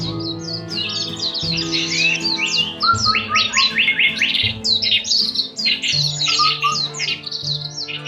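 Birds chirp and tweet busily, with many quick overlapping calls over a low sustained musical drone.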